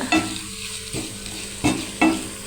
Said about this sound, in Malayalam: അപ്പോൾ കഴുകി വെച്ചേക്കുന്ന ചെമ്മീനൂടെ ഞാനകത്തിട്ടിട്ടുണ്ട്.